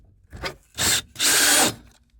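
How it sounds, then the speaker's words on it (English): A power drill bores through the wall of a 6x10 cargo trailer from the inside in three close, harsh bursts, each rising from a gritty grind to a loud, rasping whine. "it's time to go on the inside and drill out the other side"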